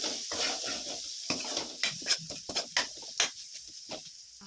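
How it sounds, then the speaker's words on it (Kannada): Spices with turmeric, pepper powder and salt frying in a pan for a pepper paneer dish, heard as scattered clinks and scrapes of a spoon stirring against the pan, with soft sizzling beneath, close by and fairly quiet. "ಈಗ ಇದಿಷ್ಟನ್ನು ಚೆನ್ನಾಗಿ ಫ್ರೈ ಮಾಡ್ಕೊಳ್ಳೋಣ 5 ಮಿನಿಟ್ಸ್."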